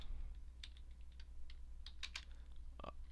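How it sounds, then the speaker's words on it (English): Code is typed on a computer keyboard in Macromedia Flash MX 8, a quiet run of irregular key taps close by over a low steady hum, with no speech. "Then you're gonna have to type these next ones out."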